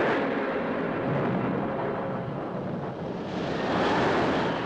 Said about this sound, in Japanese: ところがその夜、突然の嵐がアンテロープ号を襲いました。